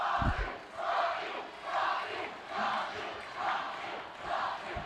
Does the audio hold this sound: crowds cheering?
yes